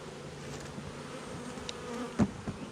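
Honeybees buzz faintly around a hive in a low, continuous hum, with a brief louder buzz as one passes close near the end.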